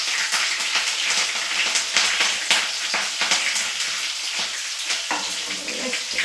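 Green chillies dropped into hot oil with mustard seeds and cumin, giving a steady loud sizzle with constant crackling and popping close by, no voices.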